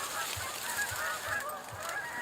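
Waterfowl on a crowded lake honk repeatedly in a loose rhythm at moderate distance over a steady outdoor background.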